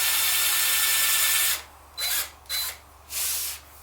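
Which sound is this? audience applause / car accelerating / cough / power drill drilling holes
power drill drilling holes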